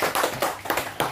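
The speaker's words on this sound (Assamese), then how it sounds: "সকলে হাত চাপৰি দিয়া" Children clap their hands together in a short burst of about five or six quick, evenly spaced claps, close and distinct, during an oral question-and-answer lesson.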